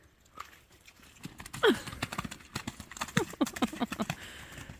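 Pony hooves clip-clopping on an outing, a rapid irregular run of nearby hoofbeats with a brief whinny-like call, while voices talk faintly in the background.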